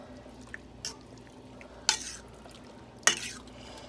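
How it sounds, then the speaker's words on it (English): A pot of homemade chili being stirred, soft and quiet, with a spoon giving a few sharp clinks and scrapes against the pot between gentle liquid sloshing. "now we're gonna stir. This is gonna be a lot of chili."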